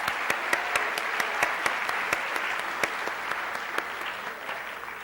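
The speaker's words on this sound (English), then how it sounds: "Give them a round of applause" A lecture-hall audience gives a round of applause, a sustained wash of clapping with a few sharp, distinct claps standing out near the front, steady to the end.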